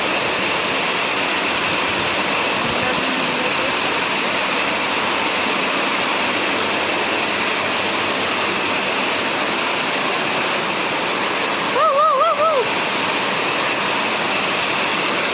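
Heavy night rain pounds iron roof sheets, a steady dense roar that stays constant from start to finish, with a brief high voice or squeak breaking through near the end.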